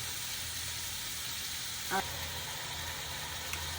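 Shrimp stir-frying in a pan, giving a steady, even sizzle with a low hum underneath and a brief clatter partway through.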